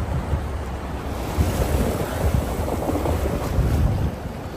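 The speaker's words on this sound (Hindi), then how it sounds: "देखो पानी देखो" Rushing water at a rocky mountain stream crossing on a high-altitude Himalayan motorcycle route, a steady broadband roar mixed with wind buffeting the microphone, with no talking.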